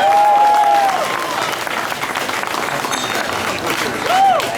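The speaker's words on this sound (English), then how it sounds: "A round of applause for Rory." Loud, sustained audience applause for a performer named Rory at a cabaret-style stage show, a dense wash of clapping with a couple of rising whistles near the start and end.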